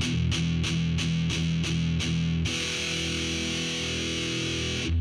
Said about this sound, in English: Or if you use palm muting